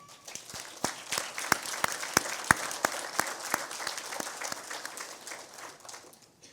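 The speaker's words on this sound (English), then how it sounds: "give yourselves a round of applause for your amazing sacrifice during this journey" A crowd applauds steadily at a law enforcement academy graduation, many hands clapping with sharp individual claps standing out, sustained for several seconds with no talking.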